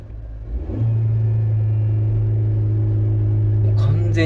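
Suzuki Jimny engine rising from idle into a steady held rev with a WINDBOOSTER throttle controller fitted, a loud, even drone that holds without dropping, heard up close from inside the car.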